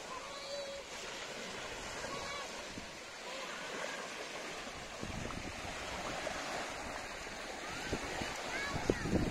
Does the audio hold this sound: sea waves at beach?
yes